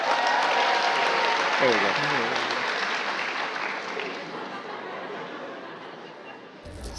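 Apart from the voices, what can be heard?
audience applause for technicians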